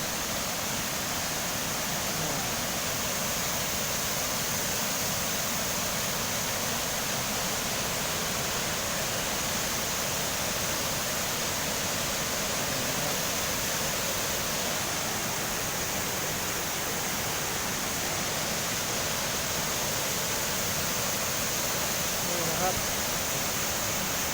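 A single-tier waterfall, Saphan Lao Waterfall in Thong Pha Phum, Kanchanaburi, Thailand, roars continuously as a dense, steady rush of falling water, loud and unbroken throughout.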